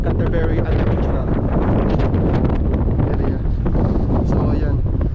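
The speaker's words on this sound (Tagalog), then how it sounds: "napakahangin, ang lakas ng hangin" Strong gusting wind in Canterbury, New Zealand, buffeting the microphone in a continuous loud roar, with no clear speech over it.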